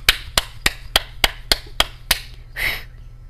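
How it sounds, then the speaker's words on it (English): About eight sharp, evenly spaced hand claps ring out close by at a steady rhythm, followed by a brief soft rustle. "I feel like clapping again"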